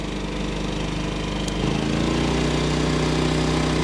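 Champion 3400 watt inverter generator running in economy mode, a steady low engine drone with a mechanical hum that rises slightly partway through.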